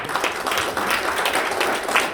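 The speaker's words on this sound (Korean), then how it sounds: "큰 박수 부탁드립니다." Steady applause from a lecture audience, many hands clapping continuously for a couple of seconds.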